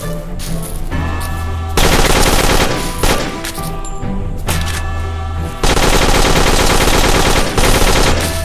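Uzi submachine gun fire in the farm-defense shooter Dead Acres, loud and close: long sustained automatic bursts broken by brief pauses, rattling steadily with no talk over it.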